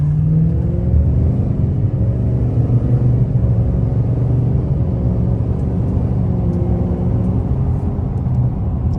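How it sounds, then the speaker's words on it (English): A deleted L5P Duramax truck pulls from 0 to 60 at three-quarter throttle, a loud, deep engine drone heard from inside the cab, with a low rumble rising gradually in pitch and holding steady. "Let's do a pull to 0 to 60, and I'm gonna go about 3/4 throttle"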